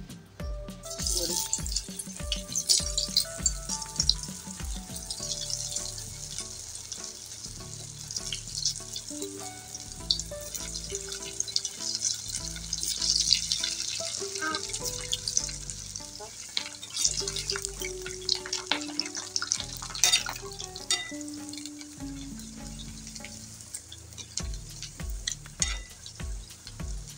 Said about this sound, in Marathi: तेल छान तापले, आपण टाकू वडी.